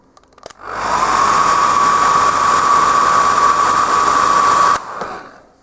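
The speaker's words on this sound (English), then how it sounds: "again with a hairdryer" A hairdryer blows on paint while highlights are being layered, switching on with a whoosh, holding a loud steady whine and rushing airflow for about four seconds, then cutting off and fading.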